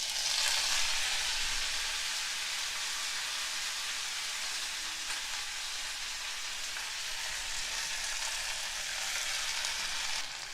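Fresh mint leaves frying in hot oil in a pan, a loud, steady, bright sizzle that holds evenly throughout with no voices.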